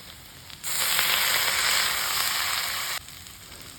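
Butter beans (ghiu simi) cook in a pan over a low gas flame, giving a loud burst of sizzling that lasts about two seconds before cutting off abruptly, with no talking.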